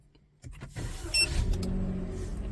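A 2023 Perodua Axia starts up: a brief starter crank kicks in, then the engine settles into a steady low idle, close by.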